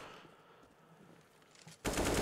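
A burst of rapid automatic gunfire erupts in a CS:GO match on the Inferno map during a pro tournament, loud and dense after a quieter stretch of faint game ambience.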